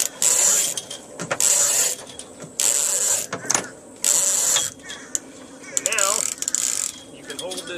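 Mainsheet ratchet block on a Sunfish sailboat boom, clicking in rapid bursts as the line is hauled through it, with repeated loud zipping runs separated by short pauses, close to the mic.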